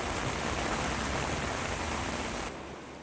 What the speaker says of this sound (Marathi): करमाळा तालुक्यामध्ये जोरदार पाऊस सुरू आहे